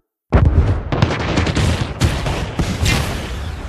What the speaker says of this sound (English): decides to instead blow up an entire tower in a long drawn-out process